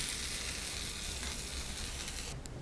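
Tempering of dals, curry leaves, dried red chillies and asafoetida in hot oil for a peanut coconut chutney, a steady close crackling sizzle that holds evenly throughout with no voices.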